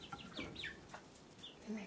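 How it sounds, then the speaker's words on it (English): Several chickens cluck and squawk in short, agitated bursts close by, with a sharp higher cry near the end. "Uh-oh, chicken fights."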